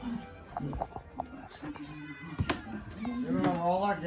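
A cat meows a few times close by, with the clearest call near the end, while someone talks to it softly throughout.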